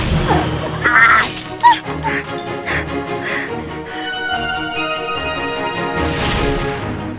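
Glass in the window of a newly bought car shatters with a bright crash. Dramatic music plays over it and continues loudly throughout, with scattered smaller impacts.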